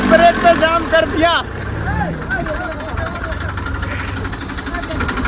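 An Eicher 380 tractor's engine rumbles steadily at close range while hauling against a DI 35 tractor, the low drone continuing under loud, excited talk.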